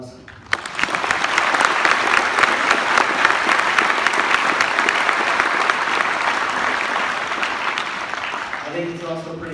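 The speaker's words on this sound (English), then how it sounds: "I think they deserve a round of applause" A crowd at a hockey team send-off event bursts into sustained, loud applause that rises quickly and continues evenly, with a voice returning faintly at the end.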